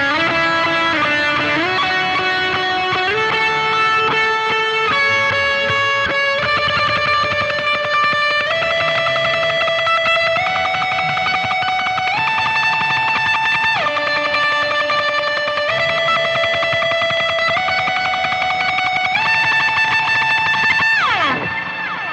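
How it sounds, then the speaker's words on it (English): Electric guitar played with fast tremolo picking on sustained single notes through a distortion pedal on a worship pedalboard, loud and continuous, stepping through a slow melodic line and ending in a quick downward slide. "That's basically what I use the distortion for."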